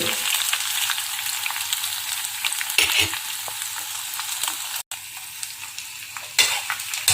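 Nochi (five-leaved chaste tree) leaves frying in hair oil give a steady, close crackling sizzle with occasional stirring scrapes and a brief pop near the middle, with no talk.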